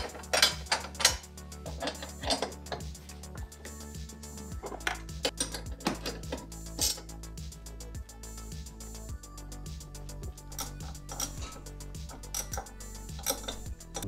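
A ratchet wrench tightens the through bolts on a Volvo XC90, making a steady run of quick clicks in a close, quiet workshop. Harder metallic knocks come through now and then, and nobody talks.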